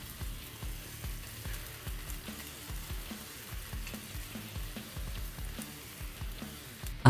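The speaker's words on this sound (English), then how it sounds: "Heat 1 tablespoon of harmonious olive oil, add 1/3 of a diced fried onion and saute until transparent." Diced fried onion sautés in a tablespoon of olive oil with a steady, moderate sizzle, punctuated by regular soft knocks of stirring throughout, and no voices.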